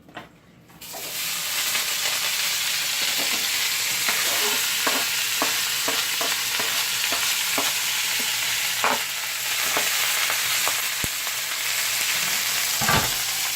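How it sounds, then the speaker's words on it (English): Vegetables for coconut curry shrimp frying in olive oil, a loud continuous sizzle close up, punctuated by repeated clicks and scrapes of stirring, with a sharp clatter near the end. "Alright, so we're going to get all our veggies fried up."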